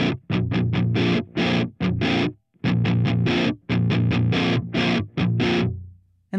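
Loud electric guitar through a BOSS HM-3 Hyper Metal distortion pedal with heavy gain, chords struck in quick rhythmic bursts with short pauses between phrases, no talking.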